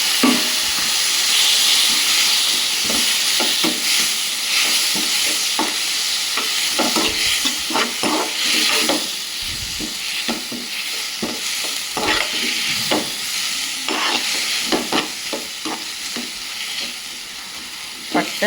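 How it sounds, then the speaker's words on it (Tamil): Onions and tomatoes sizzle steadily in a pan as a spoon scrapes and stirs in repeated clicks and scrapes, close and continuous over the hiss of frying. "வெங்காயம் வதங்கிடுச்சு, டொமேட்டோ போட்டுக்கலாம்."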